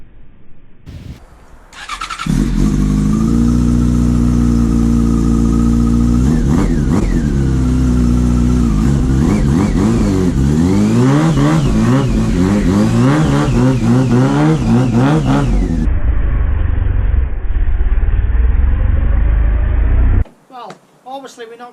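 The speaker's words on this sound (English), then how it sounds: "we're going to show you how to ride this R6 100 miles an hour in this snow" A Yamaha R6 sport motorcycle engine revs loudly and steadily in snow, its pitch climbing and sweeping up and down in repeated surges for nearly twenty seconds before cutting off abruptly.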